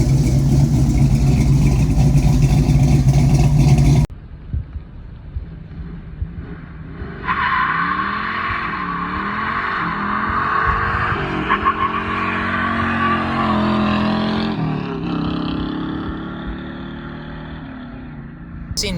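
A 1973 AMC Javelin's engine runs close by, its rumble rising and falling with revs and shifting pitch over a long stretch, after a burst of louder noise at the start.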